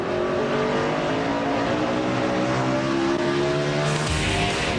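Ricky Rudd's NASCAR stock car in final practice for the 2004 Advance Auto Parts 500, its engine loud and continuous as the revs rise and fall with alternating brake and throttle, then drop sharply near the end.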